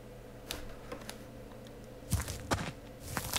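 Footsteps of the player's own character in the survival video game Rust, a series of soft, irregular tapping steps at moderate distance, growing slightly louder and denser toward the end, with no talk over them.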